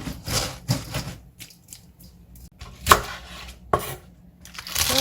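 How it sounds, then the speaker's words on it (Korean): A knife chops radish on a cutting board for water kimchi in a kitchen, giving several separate, crisp thuds at an uneven pace, close by with quiet gaps between cuts. "이렇게 한 2cm 정도 이렇게 좀 썰어서요"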